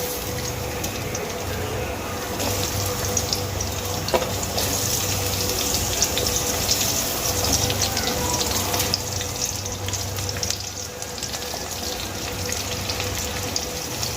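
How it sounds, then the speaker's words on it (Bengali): Chopped onions tipped into hot oil for a chicken curry masala, giving a steady broadband sizzle and hiss that runs unbroken at an even level, with a low background hum and no talk. "তেল গরম হয়ে গেছে, তেলের মধ্যে দিয়ে দেব বেশ কিছুটা টুকরো টুকরো করে কেটে নেওয়া পেঁয়াজ।"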